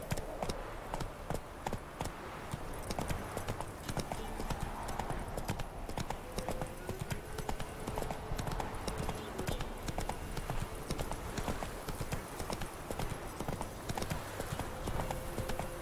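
The horse Roach from The Witcher 3 walks with rapid, steady clip-clopping hooves, a continuous rhythmic stream of hoof strikes heard for the whole stretch.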